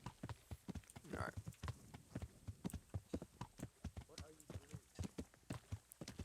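Horse hooves clip-clop in a steady walking rhythm through the medieval game Kingdom Come: Deliverance, quiet and even, with someone talking over the hoofbeats.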